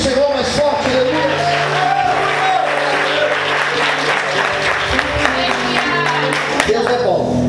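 Church congregation applauding loudly and continuously for several seconds, a dense wash of hand claps with a few shouts, while a voice carries on over it.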